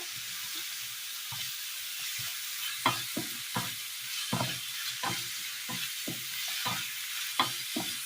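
Curry leaves and green chilies frying in hot oil, a bright continuous sizzle broken by repeated soft scrapes of a spoon stirring the pan, close by with no talking.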